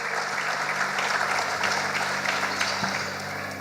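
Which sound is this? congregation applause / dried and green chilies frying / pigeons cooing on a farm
congregation applause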